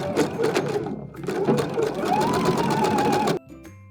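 A sewing machine running a regular straight stitch with an A-foot around the top edge of a Christmas stocking, a close, fast whirring stitch in two bursts that stops abruptly at the end.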